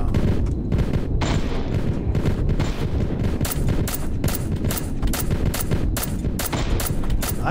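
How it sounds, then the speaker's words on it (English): Distant, repeated gunfire from the video game Plains Of Pain, with broadband cracks and bursts of shots recurring through a constant low rumble of game ambience. "Someone's shooting at somebody."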